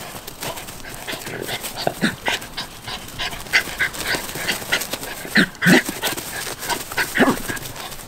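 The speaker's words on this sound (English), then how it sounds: "He's just a puppy, Skeet." A young guard-dog puppy plays with a training partner, giving scattered panting, quick movement noises and soft thumps at close range, with occasional sharper bursts and no talk.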